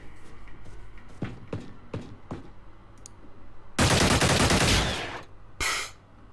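A burst of automatic machine gun fire in the Xenonauts strategy game: a loud, dense roar of rapid shots lasting about a second and a half, then a short second burst, after scattered clicks.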